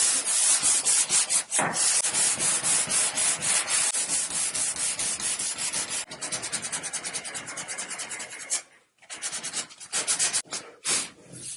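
Sandpaper wrapped on a block rubbing over a maple wood beam, steady rasping back-and-forth strokes heard up close and fairly loud, with a few brief pauses between passes.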